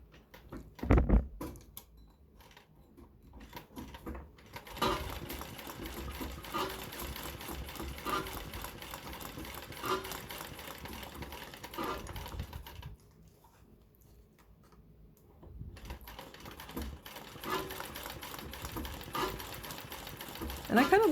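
A Singer sewing machine fitted with the Simanco 86294 attachment stitches fabric held in an embroidery hoop. It gives a quiet, rapid mechanical clatter in long runs, with a brief pause partway through and a few soft knocks at the start.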